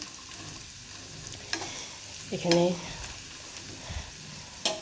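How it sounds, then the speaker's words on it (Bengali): Sliced bitter gourd (karela) fries in a pan with a steady hiss and crackle, while a voice speaks briefly and a few utensil clinks sound. "করলা ভাজা হচ্ছে"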